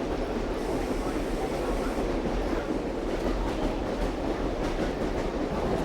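A vintage passenger train car rolls steadily along the rails in New Jersey, with a continuous rumble and faint rhythmic clickety-clack of wheels on track, loud and close throughout without pauses.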